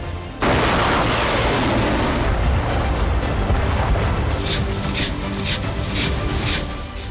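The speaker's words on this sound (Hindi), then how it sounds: "यूक्रेन की धरती फिर धमाकों से कांप रही है।" Wartime explosions and artillery fire in Ukraine: a sudden loud blast erupts, then a heavy rolling rumble continues with scattered sharper cracks and impacts further off.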